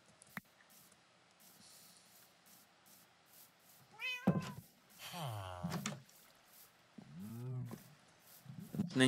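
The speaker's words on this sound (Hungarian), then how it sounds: "Ne nyávogj nekem!" A cat in the Minecraft video game meows several times in separate drawn-out calls over a quiet ambient background, with occasional clicks between them.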